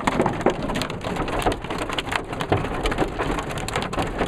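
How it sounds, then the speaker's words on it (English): Hail pelts down during a summer storm at Lake Alpine, California, in August 2015, a dense, continuous clatter of sharp impacts spread evenly across the whole stretch, close and loud, with no voices. "We'll just like chill to the sound of hail."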